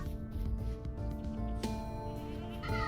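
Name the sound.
goats bleating in the video game Vintage Story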